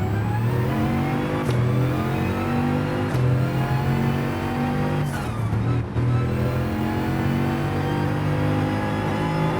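A Bugatti engine in Gran Turismo drones loudly and steadily, rising and falling through the revs with brief dips between gear changes, with no talking.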